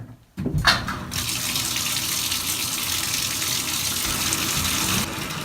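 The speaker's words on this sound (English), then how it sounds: "We want to fill this tub up with lukewarm to hot water" A bathtub fills with lukewarm to hot water for soaking a backpack and frame, a steady loud gush of running water pouring from the tap and continuing alone without pause.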